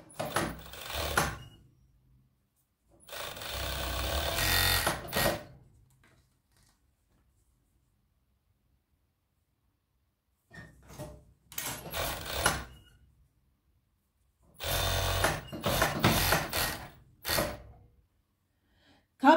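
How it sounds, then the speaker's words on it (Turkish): A sewing machine stitches the shoulder seams of a cardigan in several short bursts of rapid whirring, separated by silent pauses, close by. "Öncelikle hırkamın omuzlarını dikiyorum."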